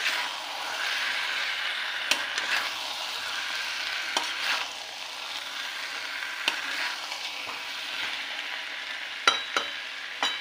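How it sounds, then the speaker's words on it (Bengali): Potatoes fry in a pan while being stirred, an even sizzle punctuated by sharp spoon knocks and scrapes at irregular intervals. "একটু আলুগুলো ঢেলে দিয়ে নাড়াচাড়া করবো"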